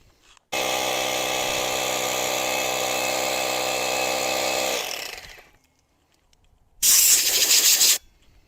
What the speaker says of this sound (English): So I use my impact to get it down to almost touching the bracket